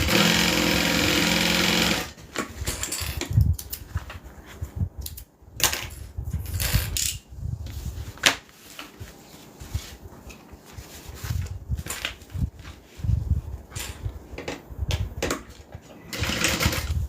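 A sewing machine runs in repeated bursts as a side seam is sewn and then top-stitched, its whirring motor speeding and pausing with irregular starts and stops and handling clatter between runs, fairly close.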